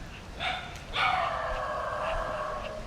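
A dog barks near a quiet village church, several sharp, strident barks run into a long, drawn-out howl-like cry, fairly close over faint background hiss.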